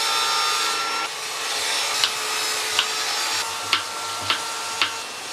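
A pumpkin being cut in a home kitchen: a steady scraping, rasping hiss with several short sharp clicks at irregular intervals as the blade works through the flesh and rind, close and fairly loud.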